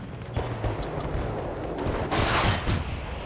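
Loud, rapid bursts of gunfire crackle continuously, with a dense, chaotic barrage of shots, in the video game Battlefield: Bad Company 2.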